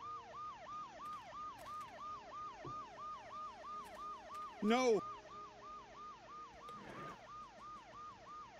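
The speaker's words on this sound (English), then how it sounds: "The noise the ambulance makes will cover the sound of the glass breaking" An ambulance siren in the Dead Synchronicity video game wails in a steady, fast repeating up-and-down cycle throughout, with a brief short spoken word and a few faint clicks beneath it.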